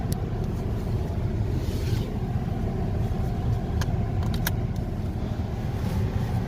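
Engine of a JDM car pulling away as a ride begins, a steady close cabin drone with road rumble and a few faint clicks and jingles from inside the car.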